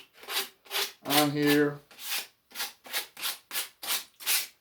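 A wooden piece for a shaving horse is sanded by hand with steady back-and-forth rasping strokes, close and rhythmic, with a short spoken remark partway through.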